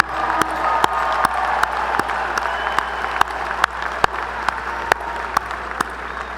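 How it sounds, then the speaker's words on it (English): A Lamar University commencement audience applauds in a sustained, fairly loud wash of clapping with crisp individual claps standing out, a low steady hum beneath. "Let's give a round of applause to the folks who did all the announcing today."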